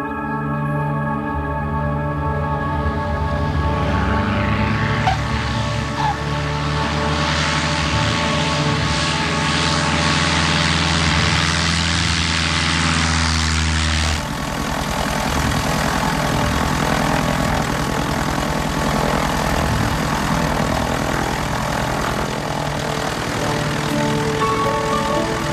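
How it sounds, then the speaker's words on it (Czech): A small propeller airplane drones steadily near a little airfield, its engine a loud continuous buzz with strong tonal harmonics that shifts character partway through, no talking over it. "Letadlo."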